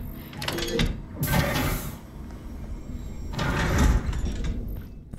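A door slides or swings shut, with two broad, rumbling scraping sweeps separated by a quieter pause, fairly close and with no talk.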